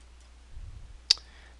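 A single sharp computer mouse click, close and fairly quiet, follows a brief soft rustle of hand movement in an otherwise quiet room with no talking.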